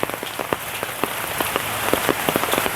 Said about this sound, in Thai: วันนี้ฝนตกนะครับทุกคนฝนตกนะครับ